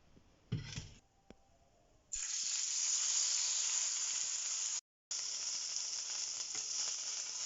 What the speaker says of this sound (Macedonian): И ова сега го носиме на пржење.